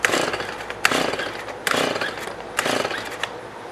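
STIHL MS-180 chainsaw being pull-started on choke, giving three rasping recoil-cord pulls in a steady rhythm, close and loud, with no talk over it.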